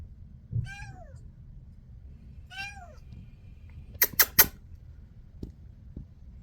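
A pet cat meows twice indoors, two clear rising-falling cries, followed by a quick burst of three sharp clicks or taps and a couple of faint knocks.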